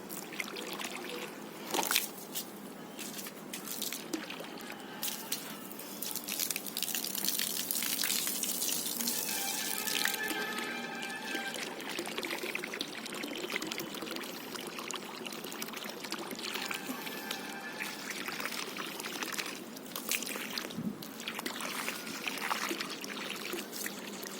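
Water poured into a pot of rice, a steady gushing and trickling stream that runs continuously at moderate level, with brief splashes and small shifts in flow, no voices heard.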